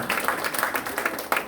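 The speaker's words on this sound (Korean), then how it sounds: "박수 한번 쳐주십시오" An audience at a Korean regional arts school graduation festival bursts into applause, a short dense spell of many hands clapping together, fairly loud and steady for about a second and a half.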